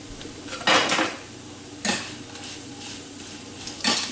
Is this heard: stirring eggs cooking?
yes